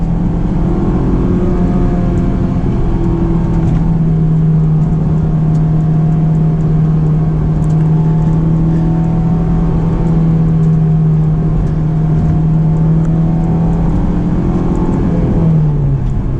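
Engine drone of a Honda S2000, heard from inside while driving. It holds a steady mid-pitched note for a long stretch, then the pitch dips near the end as a gear change. The sound is loud and continuous, with no talk.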